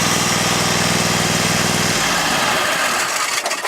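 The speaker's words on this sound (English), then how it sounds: "We have a Schweiss 54-inch mower, 0 turn, Kohler engine on it, I believe 20 horse," Kohler engine of about 20 horsepower on a Schweiss 54-inch zero-turn mower running loud and close, a steady buzzing drone that drops away partway through as the engine is cut or throttled down.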